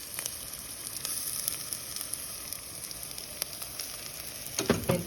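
Ginger and garlic frying with softened onions in oil over medium heat, a steady close sizzle with occasional sharper pops and a few stirring scrapes toward the end.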